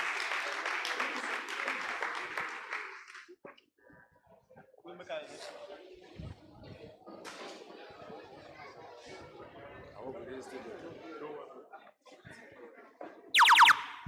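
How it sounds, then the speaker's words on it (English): Audience at a 25th priestly anniversary celebration applauding in a hall, a dense burst of clapping at the start that fades into crowd murmur and scattered noise, with brief chatter and a short bright tone near the end. "Keep clapping until they sit down"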